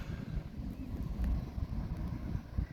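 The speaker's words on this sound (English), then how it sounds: "It's into the wind, so it makes it a wee bit further." Wind gusting across an open golf course at Rushmere Golf Club, a steady low rumbling buffet against the microphone that swells and eases throughout, with no voices.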